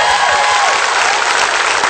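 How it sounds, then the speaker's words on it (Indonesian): Studio audience applause on an Indonesian television quiz show, a dense, steady wash of clapping that holds at an even level throughout with no talk over it. "Kita berikan tepuk tangan dulu untuk Oki Lukman."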